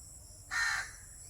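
A crow outdoors gives one clear, harsh caw, moderately loud and lasting about a third of a second, against a quiet background.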